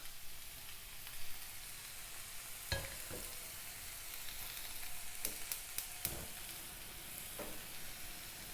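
Vegetables frying in a pan for vegan pad thai as water is added, giving a steady sizzle with a few sharp crackles and pops, alone with no talk.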